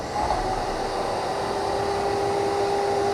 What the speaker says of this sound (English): I'm going to go ahead and put the vacuum on